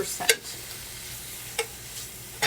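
Chicken pot pie filling being stirred in a pan, with a few sharp spoon scrapes against the pan over a low, quiet simmering hiss, no voices.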